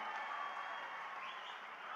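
A large political rally crowd claps and cheers steadily for two candidates, a dense continuous wash of applause held at even loudness throughout.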